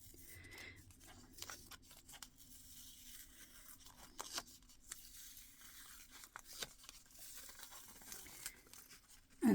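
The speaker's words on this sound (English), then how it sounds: "And then I'm going to gently pull away my backing paper." Backing paper is peeled slowly off a stamped paper mask, giving soft intermittent tearing and crinkling rustles up close, quiet overall with scattered sharper crackles and a louder burst at the end.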